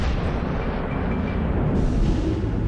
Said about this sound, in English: he shoots back with his rear gun